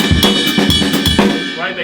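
Drum kit groove in 7/8 time with three foot hi-hat beats per bar falling between the other hits, a short, close, loud phrase of kick, snare and cymbal strokes played alone.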